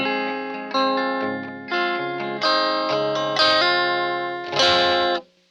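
Dry electric guitar with no effects playing a short phrase of several picked and strummed notes, each ringing clearly before the next, up close and alone, ending in a quick cutoff.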